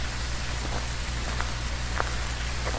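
Steady rain patters down in the Phasmophobia game, a constant soft hiss with a few distinct drops landing now and then and no voices over it.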